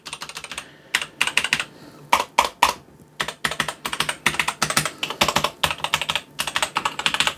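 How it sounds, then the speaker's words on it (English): Steady typing on an MSI Vigor GK41 mechanical keyboard with red switches, producing rapid, close keystroke clicks in continuous bursts with brief pauses between them. "it is actually mechanical. It's red switches, so you're not gonna have that clacky sound you'll get with generally with blue switches"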